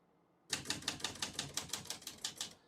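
A 1970 Olivetti Lettera 32 portable typewriter is typed on, giving a rapid, even run of about a dozen crisp key strikes, close and alone.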